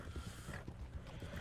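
Horse hooves clip-clopping in Red Dead Online, a short run of soft, uneven thuds from a nearby mount, moderately quiet with no talk over them.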